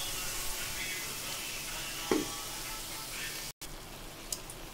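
Ground spices, including chili powder, frying in oil with onion and garlic while cooking a Bombay duck fish curry make a steady soft sizzle with a brief stirring scrape and a short dropout.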